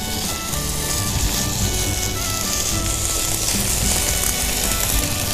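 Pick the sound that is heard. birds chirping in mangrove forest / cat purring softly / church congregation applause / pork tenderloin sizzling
pork tenderloin sizzling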